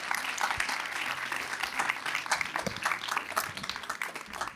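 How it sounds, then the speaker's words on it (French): An award-ceremony audience at the Prix Meilleure Satisfaction Client 2026 claps steadily for several seconds, a full, even patter of many hands heard from within the hall. "Vous pouvez les applaudir, s'il vous plaît."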